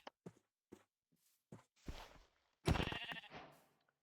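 Sheep bleats in the Minecraft video game, with a few short clicks and steps followed by a louder burst of bleating near the end, all fairly faint.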